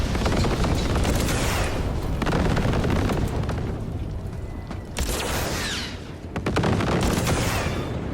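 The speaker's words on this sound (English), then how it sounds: "Just keep shooting at those rust buckets." Dense, continuous gunfire and booming blasts while shooting at robots in the Cyberpunk 2077 video game, loud and sustained with rapid volleys and brief lulls.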